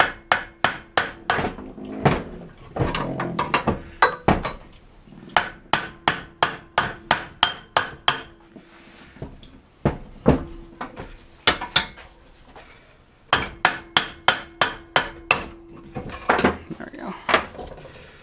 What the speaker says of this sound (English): Give it a good old whack with some pry bar on it, and then boom.